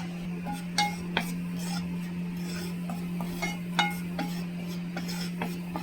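Sorghum flour dry-roasted in a pan and stirred with a utensil: soft continuous scraping broken by sharp, irregular clicks of metal on the pan, over a steady low hum.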